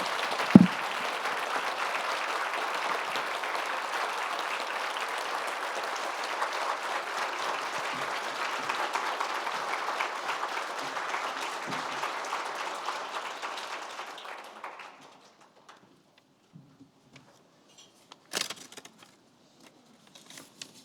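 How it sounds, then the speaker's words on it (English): An audience at the IWA2025 award ceremony applauds steadily and loudly for about fifteen seconds. The clapping then fades out, leaving near silence with a few stray claps. "everybody should just rise to their feet and applaud these two ladies"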